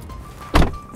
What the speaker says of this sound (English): The door handle's forward placement means leverage for closing the door is weak.